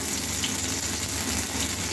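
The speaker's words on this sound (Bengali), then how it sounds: "ডাঁটাটাকে ভালো করে ভেজে নিচ্ছি" Drumstick (sajna) stalks fry in hot oil, a steady dense sizzle and crackle that fills the whole moment without pause or voices.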